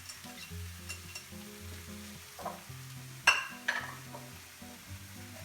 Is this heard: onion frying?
yes